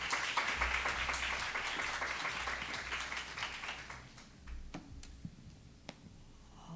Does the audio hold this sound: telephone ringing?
no